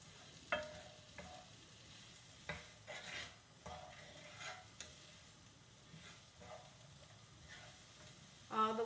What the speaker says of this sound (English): So we're just letting this saute in the pan.